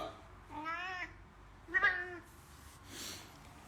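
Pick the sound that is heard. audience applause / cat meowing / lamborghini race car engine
cat meowing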